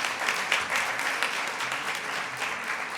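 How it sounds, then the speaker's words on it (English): Audience at the Powerful Women Conference at the College of New Rochelle claps steadily, with dense, even applause filling the room for a few seconds. "So give yourselves all a round of applause."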